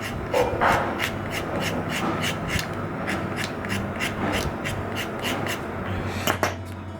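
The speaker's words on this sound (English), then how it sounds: "So now I'll grab my strop. Clean off last time's gunk." Steady back-and-forth rubbing on a knife strop to clean off old polishing compound, a rasping scrape repeating roughly twice a second, close and loud with no talking.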